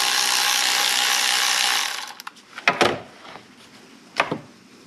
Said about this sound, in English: Up to 10 millimeter